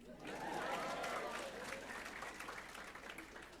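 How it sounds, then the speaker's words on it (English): An audience at a medical school white coat ceremony bursts into applause and cheering, a broad sustained wash of clapping that swells and then gradually thins. "You can cheer."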